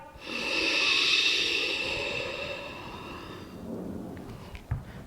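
A long forceful exhale during a yoga transition from plank down into chaturanga, a loud breathy rush lasting a few seconds before fading, followed by quieter movement and a soft thump.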